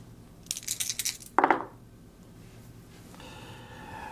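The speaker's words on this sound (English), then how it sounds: "We're going to roll 3d6 times 10." Three six-sided dice clatter and rattle briefly across a hard surface, a quick burst of small clicking impacts followed by a single sharper tumble, then quiet.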